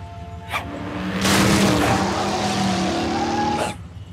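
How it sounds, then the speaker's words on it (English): A cartoon supercar drives through the jungle, its engine swelling into a loud, close roar with whooshing passes at the start and end, alone without speech. "George just drives supercar all over jungle having fun."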